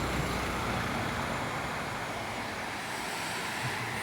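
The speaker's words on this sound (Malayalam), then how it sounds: "നിങ്ങൾക്ക് ഇതുപോലെ വെള്ളം ഒഴുകുന്ന ഒരു മനോഹരമായ കാഴ്ച കാണാൻ പറ്റും" Continuous rushing of flowing water at a temple, even and unbroken, heard from a short distance with a light wind-like hiss.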